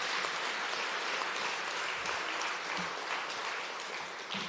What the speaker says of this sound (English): Get another round of applause for our CEO